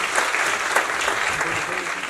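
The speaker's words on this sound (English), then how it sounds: "Let's have a round of applause." Audience clapping at the Goongoonalo app launch, a short burst of brisk, fairly close applause from a crowd.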